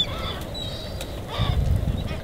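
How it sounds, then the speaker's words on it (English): Seagulls call in short, scattered cries near a lighthouse dock, fairly distant over a low rumble of wind and water. "There are seagulls out there."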